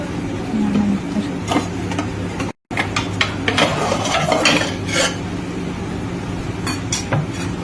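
Poha being stirred and mixed with coriander in a pan, a close, steady scraping and clinking of a spoon against metal with soft sizzling underneath and a brief cut partway through.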